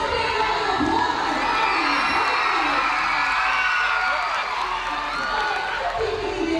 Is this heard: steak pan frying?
no